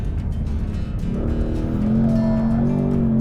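A Ford Mustang Dark Horse slides on a race track, its engine note climbing into a loud sustained rev close by, with a faint hint of tire squeal beneath.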